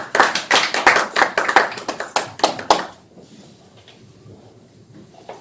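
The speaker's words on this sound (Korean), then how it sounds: "박수해 주시기 바랍니다" Audience clapping for a presenter at an academic seminar commemorating the Iksan 4.4 independence movement, with a burst of claps for about three seconds that then cuts off, leaving quiet room tone.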